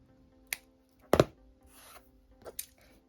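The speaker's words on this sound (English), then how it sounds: "Just going to trim off a little bit of that ribbon because it's a little bit too long." Scissors trim the excess end of ribbon on a handmade hair bow, giving a few sharp, close snips, one louder than the rest, with quiet pauses between.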